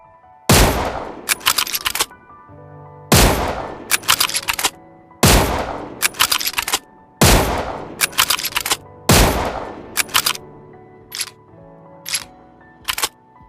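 Five loud, sharp rifle shots in a video game ring out at a slow, regular pace, each followed by mechanical clicks and clatter, then more metallic clicks at the end.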